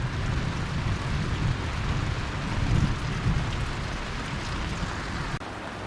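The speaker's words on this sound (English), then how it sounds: "you can hear our storm overhead" A thunderstorm passes overhead of a small Casita RV trailer, with steady heavy rain drumming on the roof and low rolling thunder rumbling underneath, continuous and fairly loud with no voices.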